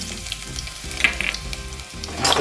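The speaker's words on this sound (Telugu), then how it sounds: "చూడండి ఆయిల్ వేడెక్కింది. ఇప్పుడు ఫస్ట్ నేను దాంట్లో పెసరపప్పు వేసుకుంటున్నాను." Moong dal and ginger fry in hot oil for a simple upma, giving a steady close sizzle with light crackles and a brief stirring scrape near the end.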